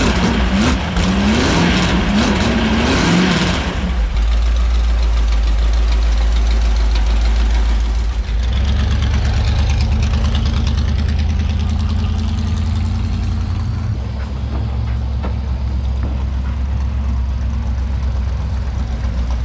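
A rusty rat rod car engine cranks and fires up outdoors at a car show, then settles into a loud, rough, lumpy idle with a deep rumble that continues steadily nearby.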